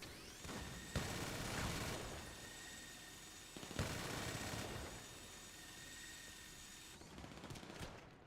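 Repeated bursts of rapid gunfire in GTA 5, heavy volleys around two separate moments with a steady background hum between, fairly loud and with no talking.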